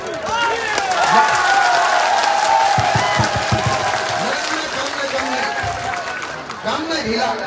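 Crowd applause and cheering at an Assam political rally, a dense, sustained clapping wash with crowd noise, while a loud amplified voice carries over it.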